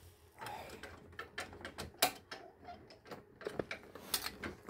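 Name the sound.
wrench loosening stiff bolts on Honda Fit Hybrid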